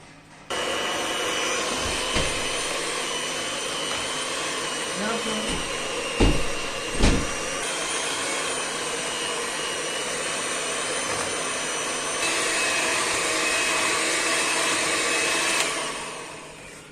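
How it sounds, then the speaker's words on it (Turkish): Electric hand mixer whisking carrot cake batter with cinnamon, vanilla and baking powder, a loud, steady motor whine running almost continuously, with a few bumps as the beaters knock the bowl. "Şimdi çırpacağım arkadaşlar ben bunları."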